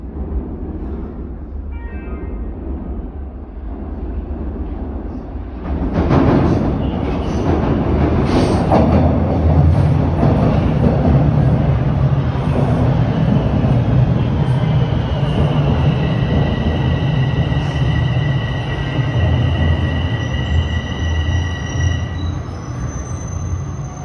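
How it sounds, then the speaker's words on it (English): TTC Line 4 subway train arriving at Bayview station, a loud rumbling roar building as it pulls in, with squealing wheels and sustained high whine, up close on the platform. "Oh, finally, the westbound train is approaching."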